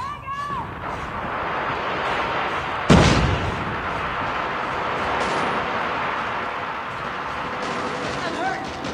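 A grenade blast and gunfire in the mobile shooter Call of Duty Mobile: a dense, steady roar of battle noise broken by one sharp, loud explosion early on, with muffled voices underneath.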